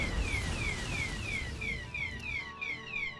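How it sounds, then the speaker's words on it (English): A home fire alarm under test gives a loud repeating electronic whoop, each falling sweep recurring about every third of a second, close and continuous with a steady background hum and no talking. "Got to test out that fire alarm."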